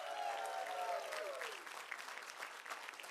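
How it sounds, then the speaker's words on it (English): Wedding reception guests give steady, moderately loud applause, a continuous wash of clapping throughout with a tonal sound fading early on. "big, big round of applause."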